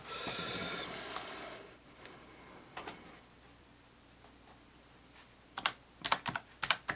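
Keyboard typing in quick irregular bursts of clicks, with a steady hiss early on, then scattered keystrokes and a sharper flurry near the end.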